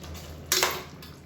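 Cashew paste being stirred into chicken white gravy in a pan: a single brief scrape and clink of a spoon against the metal pan, close and fairly quiet.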